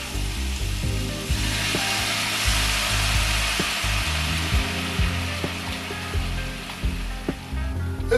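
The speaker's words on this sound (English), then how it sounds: "We're gonna add our bourbon to our bacon, shallots, and chanterelle mushrooms." Bourbon poured into a hot pan of bacon, shallots and chanterelle mushrooms, producing a steady loud sizzle and hiss with a low rumble beneath and occasional clinks of utensils, with no talk.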